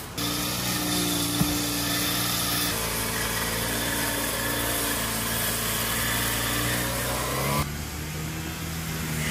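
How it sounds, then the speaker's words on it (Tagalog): A grass cutter engine runs steadily and loudly close by on an island property, with a continuous high-pitched drone that shifts slightly in pitch partway through. "Pinaturuan ko naman kay Ray si Benji na mag-grass cutter"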